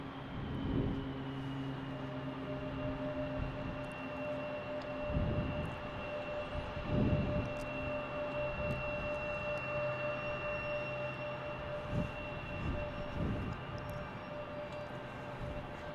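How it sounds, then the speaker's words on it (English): Embraer E175 jet rolling for takeoff at Salt Lake City airport, a steady distant engine roar with a sustained whine, continuous at moderate level through the clip. "this E175 is rolling from Salt Lake City"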